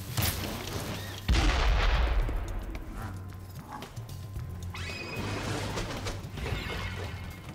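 A bomb blast in Spyro Reignited Trilogy, one heavy booming explosion that erupts suddenly and rings out over busy game sound effects, with a softer rumble and chime following.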